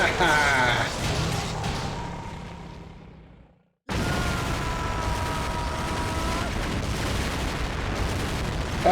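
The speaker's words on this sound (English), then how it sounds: "That's a lot of explosions." Loud, rumbling explosions and gunfire roar in the video game Metal Gear Solid, fade away, cut to brief silence, then return as a dense, sustained barrage with mechanical tones.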